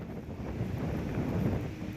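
Wind blows steadily past the microphone while two Thai chula kites are flown outdoors. It makes a continuous low rumbling buffet with no voices.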